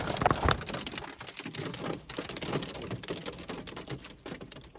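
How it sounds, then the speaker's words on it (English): Hail falling outdoors, a dense irregular patter of small hard hits that clatter steadily at low to moderate loudness, with no talk over it. "it's hailing right now."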